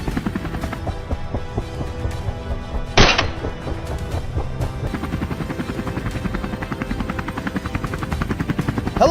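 A helicopter flies over wild boar during a hunt, its rotor thudding steadily and loudly for the whole stretch, with a sharp crack near the three-second mark.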